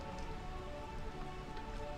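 Steady, dense rain falling in Burmecia, the rain-soaked realm of the Final Fantasy IX video game, a continuous even hiss with faint tonal music beneath it.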